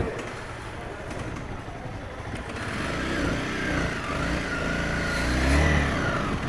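A motorcycle engine runs on a test drive outdoors, a continuous rough rumble that swells toward the end with wind noise and no speech.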